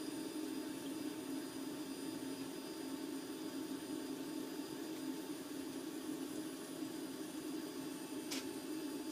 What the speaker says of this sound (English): This is a hardcore fuel pump that is pushing out a ton of fluid